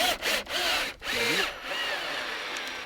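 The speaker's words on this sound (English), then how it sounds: "Keep it pushed in while you're screwing the screw in so we get a nice tight fit." A power drill driving a screw into a wooden corner post of a 14-inch-high raised garden bed, whining bursts that rise in pitch, briefly stop, then settle into a steady strained run, close by.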